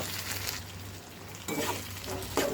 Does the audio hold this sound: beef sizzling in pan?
yes